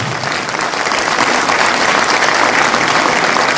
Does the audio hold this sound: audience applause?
yes